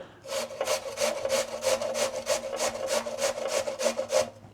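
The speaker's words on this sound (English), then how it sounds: "on the big teeth of your grater, you are gonna grate until you hit the seeds" A cucumber is rubbed down the big teeth of a grater in steady back-and-forth strokes, about a dozen even, close rasping passes in a row with no voices.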